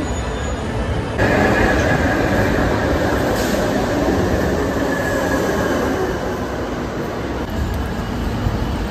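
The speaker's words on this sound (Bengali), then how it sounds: "মেট্রো স্টেশন চলে এসেছি," A metro train pulls into a Kolkata station with a loud, continuous rumble of wheels and rails, a sustained whine above it and faint crowd sounds.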